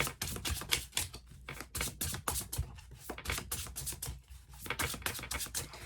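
Tarot cards being shuffled quickly by hand, giving a rapid series of crisp riffling and tapping bursts with short pauses, close and fairly quiet with no talking.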